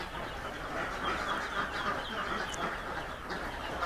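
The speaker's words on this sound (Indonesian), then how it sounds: "ini bebek-bebeknya" Day-old ducklings, about 500 of them, crowd a pen. They make a constant dense chorus of high cheeping peeps, with a low background rumble.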